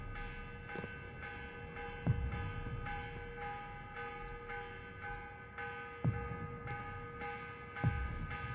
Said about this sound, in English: The morning bell. God, I hated that. Ringing 5 days a week just before dawn.